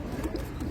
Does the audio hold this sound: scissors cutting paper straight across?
no